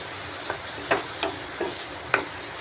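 Spice paste with tomato and fried potatoes cooking down in oil for a jackfruit curry, a steady close sizzle broken by five or six scraping stirs of a spoon in the pan.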